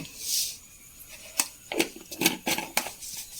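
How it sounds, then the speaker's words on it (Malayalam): Sharp pops and crackles burst irregularly from hot coconut oil, close and fairly loud, as mustard seeds sputter and spit in quick clusters. "വെളിച്ചെണ്ണ ചൂടായി നമുക്ക് കടുക് ഇട്ട് കൊടുത്തു"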